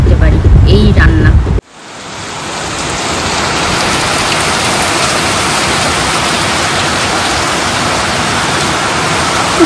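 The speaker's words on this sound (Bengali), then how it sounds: "প্রচণ্ড বৃষ্টি হচ্ছে" Heavy rain pours down steadily, a dense, loud, continuous hiss that starts abruptly after a brief burst of louder noise and then holds at a constant roar for the rest of the time.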